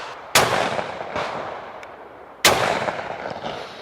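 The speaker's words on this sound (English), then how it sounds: "Let's see how this gun shoots, how it feels." A Tristar Setter 12 gauge over-under shotgun fires Federal Top Gun loads outdoors, two sharp, loud blasts a couple of seconds apart, each with a long rolling echo, and a fainter distant report between them.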